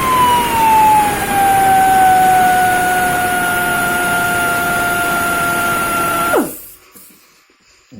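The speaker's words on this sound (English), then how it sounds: "So I'm having grinding wheel. I'm going to do the job now." A grinding wheel grinds the surface of a 7-inch twin-lead drum brake from an old RD350 motorcycle, making a loud, steady whine with slowly falling tones. It stops abruptly near the end and winds down to quiet.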